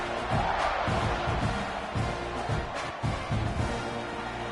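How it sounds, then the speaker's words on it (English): A College Football 26 video game stadium crowd buzzes steadily after a score, a dense, continuous roar with rhythmic swells of cheering underneath. "this crowd is buzzing after that last score"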